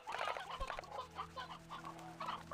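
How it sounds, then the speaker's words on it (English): Chickens in the game Slime Rancher 2 cluck in short overlapping bursts, several birds close together, with a faint steady hum underneath and no talking. "Oh my god, there's so many chickens"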